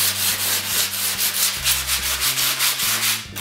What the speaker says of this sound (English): So for my first step, I'm just gonna give it a nice little light sand everywhere